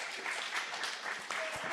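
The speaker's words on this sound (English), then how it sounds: "Please give a huge round of applause again to Kojo." An audience at a livestreamed audiovisual event applauds the performer Kojo, a brief, moderately faint burst of scattered clapping with a few cheers mixed in.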